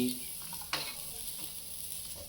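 Garlic, cashews and ginger sizzle softly in a pan of oil, a faint, brief frying hiss with a stirring scrape near the start.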